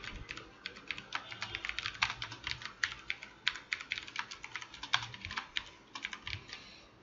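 Fingers tap rapidly on a computer keyboard, a steady near clatter of individual keystrokes in uneven bursts while code is written, with no voices.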